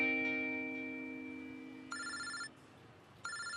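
A telephone rings in two electronic bursts, the second cut short, over a fading sustained tone in a tense scene from a Hindi-dubbed South Indian action film.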